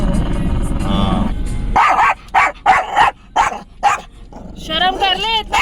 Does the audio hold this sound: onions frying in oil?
no